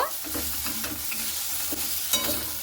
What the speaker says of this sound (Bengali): এরপরে ভিন্ডির সঙ্গে আর আলুর সঙ্গে খুব সুন্দর করে আবারও আমি 1 মিনিটের মতো পুরো নাড়াচাড়া করে নেব